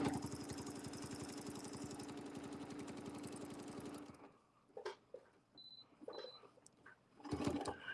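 A sewing machine stitches a quilt along a quilting template with a fast, steady mechanical whir for about four seconds, then stops, leaving faint handling clicks and a brief burst of sound at the end.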